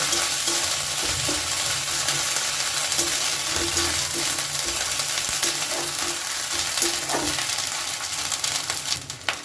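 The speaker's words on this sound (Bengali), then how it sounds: "এক চুটকি হিং ও কিছুটা ভালো করে মিশিয়ে নেব" Moong dal with ridge gourd and a pinch of hing fries and is stirred in a pan, giving a loud, continuous close sizzle with occasional scraping stirs and no talking.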